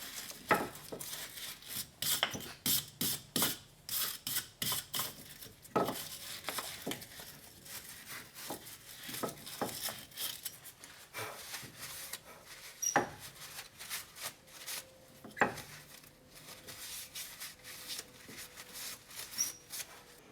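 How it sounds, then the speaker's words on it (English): Front wheel bearing seat on a Chevy Impala being scrubbed clean, with scattered close scraping, rubbing and brushing strokes in irregular bursts, fairly quiet, no talk. "So I'm gonna clean the bearing seat."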